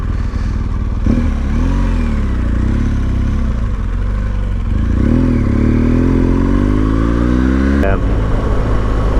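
A BMW GS Adventure motorcycle cruises along a Wicklow mountain road in Ireland, its engine a loud, steady, close droning hum with rising and falling revs as it pulls, while someone talks continuously over it.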